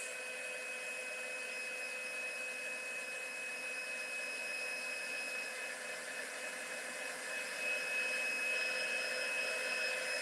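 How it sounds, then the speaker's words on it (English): A heat tool blows hot air to dry watercolor paper, a steady whooshing hiss with a high whine, constant and fairly quiet for the whole stretch, with no voices. "So now what I'm going to do is I'm going to get my heat tool"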